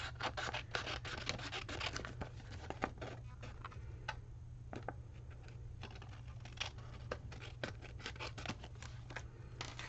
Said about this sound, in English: take our paper snips and cut around this.